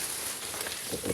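Rain falls during a rice harvest in a paddy field, a steady broadband patter that is close and fairly loud and runs continuously through the clip, with no voices.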